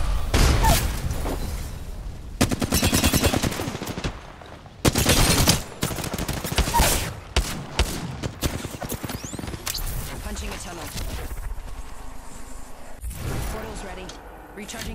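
Gunfire and a grenade in the video game Apex Legends: loud bursts of rapid automatic fire and sharp impacts in dense clusters, with gaps of quieter game noise and some voice chat underneath.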